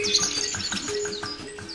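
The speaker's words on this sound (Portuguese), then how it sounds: "curtindo o som dos pássaros" Birds chirp in a green spot at the far south edge of São Paulo, several bright, quick tweets repeating over a soft outdoor background with a faint low hum.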